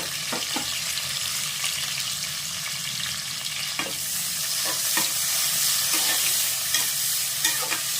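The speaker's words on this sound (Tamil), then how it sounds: "இது வெங்காயம் நல்லா வதங்கட்டும்" Sliced onions sizzle and fry steadily in a pan for mutton biryani, with a continuous hiss and occasional scraping stirs from a spatula, close and fairly loud throughout, with no talk.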